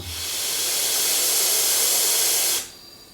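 Compressed air hisses loudly from the pneumatic piston of an air pressure booster. The burst is broad and steady for about two and a half seconds, then cuts off sharply, with no talking.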